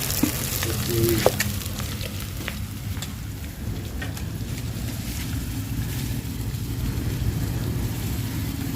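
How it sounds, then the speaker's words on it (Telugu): Mutton pieces drop into spiced masala that has already been fried in a home kitchen. A dense, steady sizzle and frying hiss carries on throughout, with a few stirring clatters near the start and no talk. "మసాలా అయితే వేగిపోయింది ఇప్పుడైతే మటన్ అయితే వేసేస్తున్నాం"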